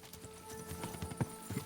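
Horse hooves clip-clopping in Kingdom Come: Deliverance II, a steady run of soft, close hoofbeats with a few louder thuds and a faint whinny-like sound, played alone without talk.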